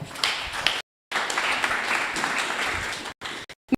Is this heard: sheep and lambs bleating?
no